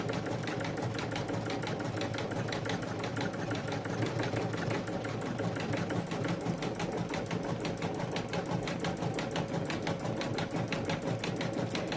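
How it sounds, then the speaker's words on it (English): A sewing machine stitches at its slowest setting, a steady, close mechanical whir with an even, rapid ticking rhythm that continues unbroken throughout, with no voices over it. "my machine is set at the slowest speed that it'll stitch"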